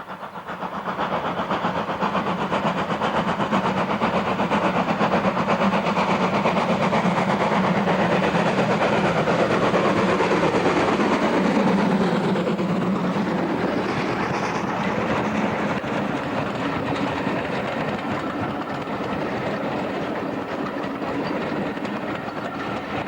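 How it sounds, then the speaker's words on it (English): An ex-North Eastern Railway Class J27 steam locomotive passing with its train, a loud rumble and rhythmic clatter that swells toward the middle and then slowly fades, with no voices. "A popular visitor that springtime was ex-North Eastern Railway Class J27"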